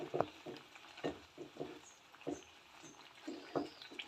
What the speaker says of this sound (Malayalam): എന്നിട്ട് നമ്മൾ നന്നായിട്ടൊന്ന് മിക്സ് ചെയ്ത് കൊടുക്കണം